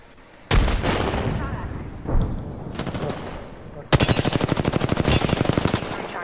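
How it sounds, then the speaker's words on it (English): Video game gunfire cracks out as a loud burst, then a brief pause and a long rapid automatic stream of close, punchy shots with a heavy low-end boom. "Opening fire."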